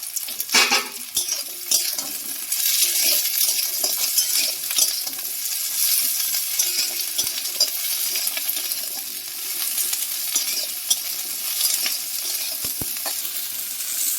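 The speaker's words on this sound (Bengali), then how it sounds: "এবার ঢ্যাঁড়স আর পেঁয়াজ একসাথে ভাজবো।" Okra and onion frying together in a pan for a dhaba-style bhindi masala, a steady close sizzle with scraping and clinks of a utensil stirring against the metal throughout, no voices.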